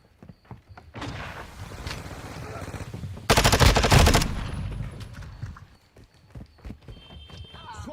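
Gunfire in Call of Duty Modern Warfare II, with rapid rattling automatic bursts through most of the stretch, peaking in a loud, dense volley midway and then thinning out, mixed with a voice talking.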